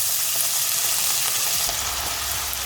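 Two small potatoes, chopped very fine, fry in hot oil with mustard seeds for Mumbai-style poha, making a loud, steady, close sizzle throughout with no talking.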